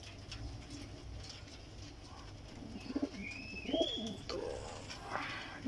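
Flying pigeons of several breeds, including golden and teddy birds, give soft, low cooing calls in a few short bursts amid light background noise, with a brief spoken word.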